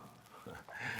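A rooster kept inside an apartment clucks briefly and close by, with a short rise at the end, heard alone without speech.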